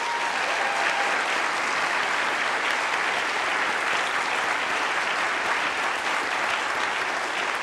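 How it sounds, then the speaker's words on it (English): An audience claps in a sustained round of applause at a NASA event unveiling an asteroid sample returned from deep space, a dense even roar of hands with no speech on top. "Let's give them a round of applause."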